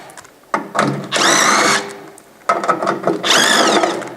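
A power drill backs out 5/16 hex screws from a refrigerator control box during a defrost thermostat repair, two loud whirring bursts with rising and falling pitch, close up, separated by a short pause.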